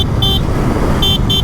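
On a busy, damaged four-lane road in Darbhanga, a vehicle horn honks in several short bright toots over loud, steady traffic and engine rumble close by.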